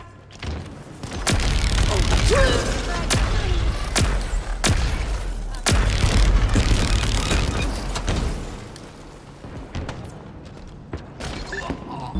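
Frag grenade explosions in a Halo Infinite Slayer multiplayer match: several loud, deep booms burst one after another amid rattling gunfire and game mechanisms, with a voice talking over the action.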